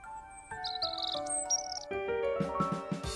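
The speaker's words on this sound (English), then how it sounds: "Sound of chirping birds around me" Birds chirp and tweet in a peaceful outdoor scene in a visual novel game, high bright calls repeating over a layered musical background, steady and moderately close.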